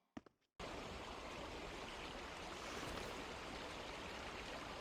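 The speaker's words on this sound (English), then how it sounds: "the waterfall is just up ahead." A waterfall in the Tales of Zestiria video game rushes as a steady, dense water roar that starts abruptly after a brief sound and then holds constant and fairly soft.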